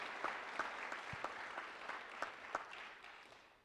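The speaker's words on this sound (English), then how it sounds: "Please give them a round of applause." An audience at an Army garrison change of responsibility ceremony at Fort Knox gives the Army Band a round of applause, a soft, fairly distant patter of clapping that thins and fades out over a few seconds.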